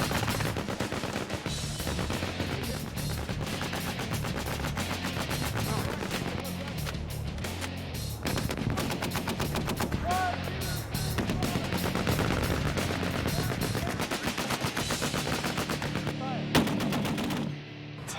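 A Marine machine gun fires armor-piercing incendiary rounds at steel hulks hundreds of yards downrange, rapid sustained bursts of loud, dense reports with only tiny gaps, running almost without pause throughout.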